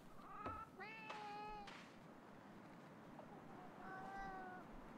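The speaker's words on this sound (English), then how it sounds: "I hear the cat." A cat in the video game Reka meows several times, two quick cries early then a longer one later, clear over quiet game ambience.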